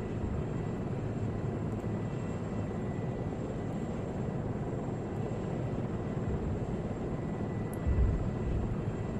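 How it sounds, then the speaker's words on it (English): A helicopter in the military video game Arma drones steadily with a dense, constant low rotor and engine rumble, close and loud, holding an even level throughout with a brief swell near the end and no talk over it. "Oh, helicopter."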